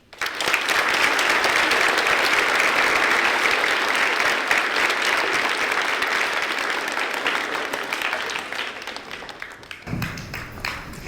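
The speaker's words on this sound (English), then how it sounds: "round of applause for Chief Whiteley" A school audience gives a sustained round of applause for Chief Whiteley, dense steady clapping filling the room for about ten seconds before thinning out near the end.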